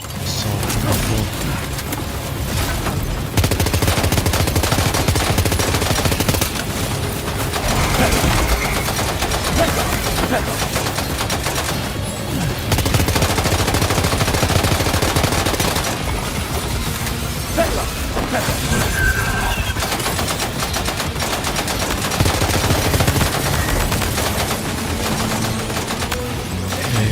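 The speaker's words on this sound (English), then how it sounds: "Assault rifle." Assault rifle gunfire in Death Stranding 2 comes as dense, repeated bursts of sharp shots with crashes and mechanical clatter, loud and near and continuing throughout.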